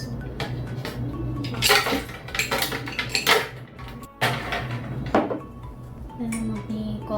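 Ice goes into a blender glass for a frappuccino, with sharp clinks and clattering knocks of cubes against glass and dishware coming in irregular bursts, close and fairly quiet.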